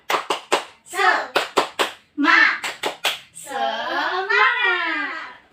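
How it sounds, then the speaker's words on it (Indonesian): A class of children performs a rhythmic encouragement clap, crisp patterned hand claps in quick bursts alternating with children chanting together, close and clear in a classroom. "Yuk, tepuk semangat."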